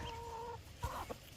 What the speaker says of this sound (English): big chickens right here